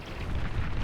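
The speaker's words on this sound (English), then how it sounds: "Half the Jags just get caught in that EMP explosion" An EMP blast in the real-time strategy game Beyond All Reason, a dense, roaring low rumble sustained loudly through the whole short moment with no gaps.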